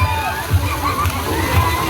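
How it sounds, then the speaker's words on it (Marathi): Water splashes and sloshes steadily at a children's play spot, a continuous wet churning close by with faint voices in the background. "ए बाबा पाणी उडवतोय काय"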